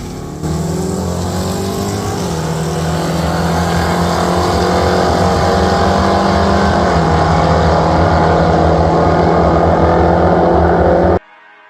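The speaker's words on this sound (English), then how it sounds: "I decided to make a full tilt pass to see what the truck would run" A drag racing truck makes a full-throttle pass down the track, its engine roaring loud and close as it climbs through gear changes for about eleven seconds before cutting off abruptly.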